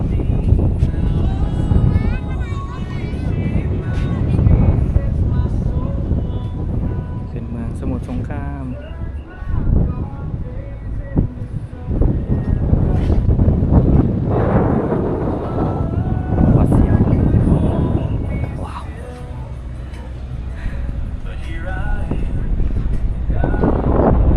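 Strong wind buffets the microphone high on the Mae Klong suspension bridge in Samut Songkhram, a constant low roaring rush that gusts up and down throughout while people talk over it.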